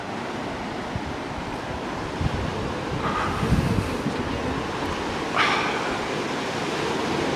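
Surf washes onto sandy Newell Beach in Queensland as a continuous, fairly loud rush, with wind buffeting the microphone and a couple of brief, sharper bursts.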